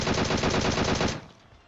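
Rapid automatic M4 rifle fire in PUBG Mobile, a close, loud burst of evenly spaced shots for about a second before cutting off into a fading tail.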